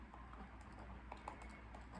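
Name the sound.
typing on a computer keyboard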